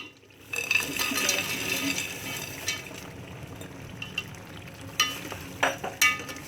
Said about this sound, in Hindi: छोले डाल के इसको अच्छी तरह भूनेंगे 5 से 7 मिनट तक।